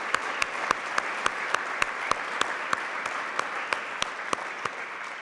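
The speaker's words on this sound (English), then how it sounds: "Round of applause." Audience applause at a Rolls-Royce facility dedication ceremony, a steady wash of clapping from a room of people with a few sharp individual claps standing out rhythmically, moderately loud and without voices.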